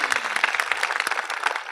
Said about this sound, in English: And that needs a round of applause